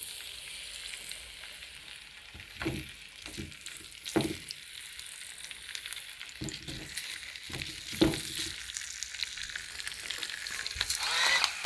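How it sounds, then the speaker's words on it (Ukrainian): Zucchini slices about 0.7 cm thick frying in a pan, a continuous quiet sizzle broken by occasional scraping turns and soft clicks of a utensil, no voices. "І обсмажуємо на пательні."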